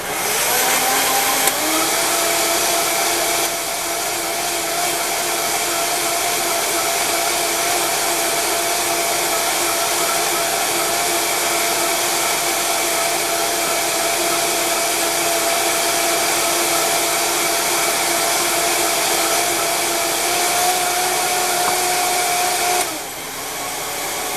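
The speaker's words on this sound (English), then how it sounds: "now we are going to blend all of this" A loud, steady motorized whir of a blender blending vegan nacho cheese sauce ingredients runs continuously for about twenty seconds at full speed, then cuts off abruptly near the end.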